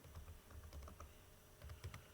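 Keys clack on a computer keyboard while a C++ program is being written, a quick irregular run of close, light taps with no talk.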